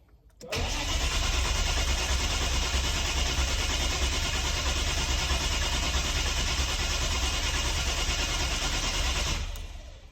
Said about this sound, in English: a couple of turnovers, and then it shouldn't fire at all